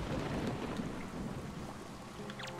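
Thunderstorm in Wind Waker HD, with a dense roar of rain and rumbling thunder filling the scene at fairly loud, steady level, no voices over it.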